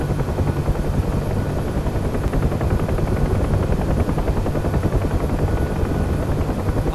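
A UH-1H Huey in the DCS flight simulator drones on in flight, its loud, steady rotor thump and turbine roar filling the whole stretch without change.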